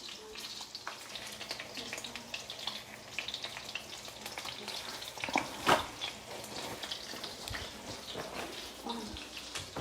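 Bone-in pork chops frying in two tablespoons of butter in a pan, giving a soft, steady sizzle with light crackles and one brief louder clatter midway, no voices.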